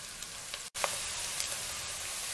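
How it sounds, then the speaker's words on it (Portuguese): Bacon and linguiça sausage fry in their rendered fat in a pan, a steady close sizzle with faint crackles and one brief dropout. "Aí aqui agora nós vamos deixar fritar bem e voltamos."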